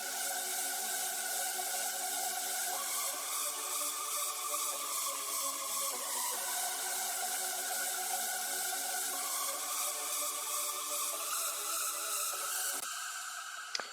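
A harsh, screeching synth lead plays a sustained melody that shifts pitch every couple of seconds over a steady electronic bed, no bass underneath.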